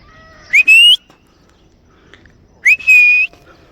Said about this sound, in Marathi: त्यांना शिट्टी मारली बघूया